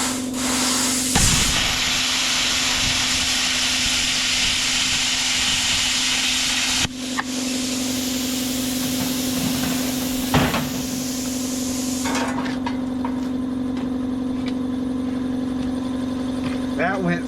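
An AutoGen 55A plasma cutter running at full power and slicing through metal, a loud steady broadband hiss and roar with a low hum underneath, broken by a few sharp starts and stops.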